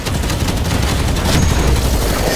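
Dense, continuous gunfire from Halo 5: Guardians, with rapid overlapping shots and booming impacts that keep a loud, unbroken barrage going for the whole moment.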